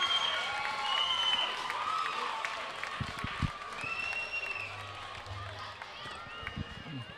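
Crowd at a women's Australian rules football grand final, Nelson Bay against Newcastle City, roars after a goal by the Marlins: a broad, sustained cheer with applause and whistles, steady and loud throughout.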